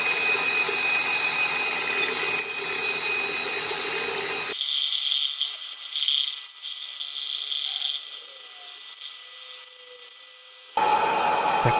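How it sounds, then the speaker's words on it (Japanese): A slicing tool flattens white resin for a knife handle, giving a steady whirring machine grind near the mic with the pitch and load shifting midway through. "まずはスライス板を使って白い樹脂の平面をざっくり出していきます。"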